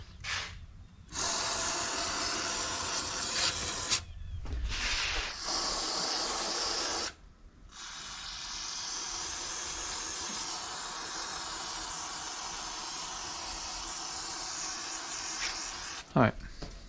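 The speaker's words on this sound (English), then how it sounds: "I'm gonna just spray a little brake parts cleaner to get that off, get it dried" Brake parts cleaner sprays from an aerosol can onto a vehicle part near the fuel tank in steady hissing bursts, a short blast followed by a long sustained spray, close and loud, with brief gaps between.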